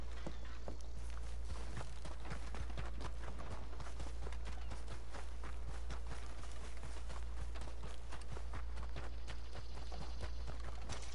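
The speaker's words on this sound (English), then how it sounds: "they got people, horses just walking around," Horses in Red Dead Redemption Online walk along with quick, steady hoof clip-clops, a continuous busy patter of steps over a low constant hum.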